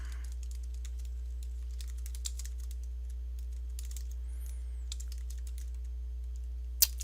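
Someone types C++ code on a computer keyboard, with sparse, quick clusters of soft key clicks and one sharper tap near the end, all over a steady low electrical hum.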